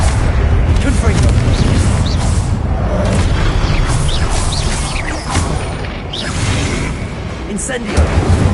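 Confringo explosive spell blasting statues in Hogwarts Legacy, a dense, loud rumbling boom with crackling debris that fills the whole stretch, swelling again near the end, with a voice faintly present underneath.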